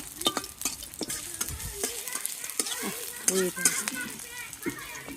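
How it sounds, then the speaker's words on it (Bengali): Onions and chillies fry in a pan with a continuous sizzle and the clatter of stirring, while children's voices chatter in the background. "বর্তার জন্য পেঁয়াজ আর মরিচ বাজতেছি"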